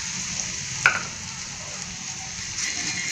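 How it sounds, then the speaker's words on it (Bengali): Dried fish (shutki) frying on a hot pan for shutki bhuna: a steady, close sizzle with a single sharp clink near the start and a slight swell in frying noise toward the end. "যেহেতু শুটকিগুলো ভেজে নেব, তো তাওয়াটা আমি বসাই দিলাম"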